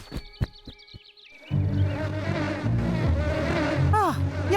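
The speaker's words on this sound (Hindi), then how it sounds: "वो मधुमक्खियां करमचंद की हैं" Cartoon bees buzz in a Boonie Bears scene, a steady droning hum that starts after a few sharp knocks and continues under music and a brief whistling swoop near the end.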